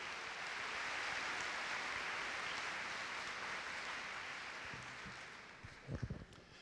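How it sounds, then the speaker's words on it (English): Applause from a large school-staff gathering at a back-to-school kick-off fills the room as a steady, even roar of many hands, then tapers off near the end with a few louder bumps. "Big round of applause."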